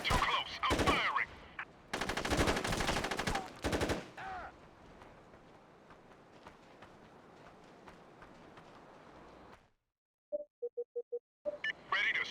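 Gunfire in the video game SOCOM: Combined Assault, loud rapid automatic bursts in several short volleys, then quieter scattered shots, a silent gap and a few clipped electronic beeps.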